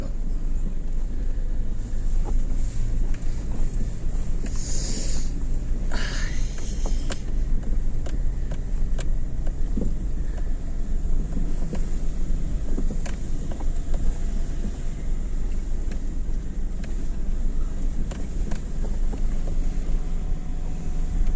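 A heavy tractor engine drones and strains steadily in snow, tires slipping, over a constant low rumble, with wind buffeting the microphone throughout; the labored sound persists without letup.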